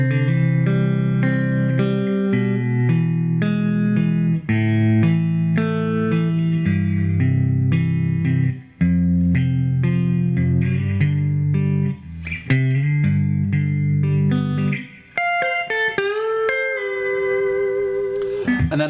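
Electric guitar strums the verse chords of a song, steady rhythmic chording with sustained ringing notes, ending in a brighter single-note phrase, played alone without talk.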